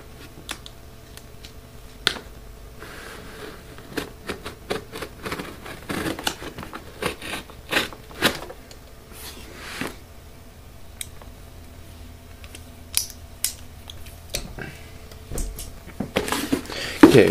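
Shipping box for a hard disk drive upgrade being cut open by hand, with scattered sharp snips, scrapes and crinkles of cardboard and tape at close range, no talking.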